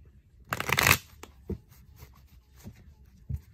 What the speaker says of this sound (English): I have to shuffle these anyway